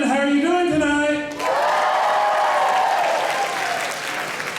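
At a school junior spring concert, a large audience in the hall bursts into loud, sustained applause and cheering after a short tonal sound, with the clapping continuing as a dense wash and tapering slightly at the end.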